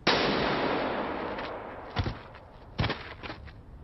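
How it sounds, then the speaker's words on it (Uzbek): A gunshot sound effect in a staged Squid Game–style elimination game: a sharp loud blast that decays into a long rumbling tail, followed by a couple of fainter thuds, with no talking. "O'q ovozi"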